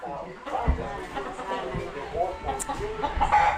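Chickens cluck and chatter repeatedly nearby while people talk over them.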